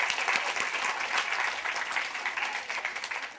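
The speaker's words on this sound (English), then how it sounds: "big hand for my dad, everyone" Audience applause at a talk during a book festival, a steady dense clapping that holds evenly throughout, loud and close.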